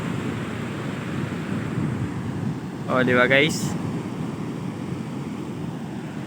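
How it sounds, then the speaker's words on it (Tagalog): Big waves roll in at a surfing beach, a broad continuous roar of surf with wind buffeting the microphone, while someone briefly speaks midway over the steady wash. "Malaking alon na yan."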